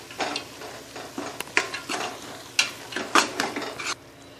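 Ground coconut and chili paste fries in a pan while a spoon stirs and scrapes through it, giving a soft steady sizzle broken by several sharp scraping strokes, close and fairly quiet with no voices.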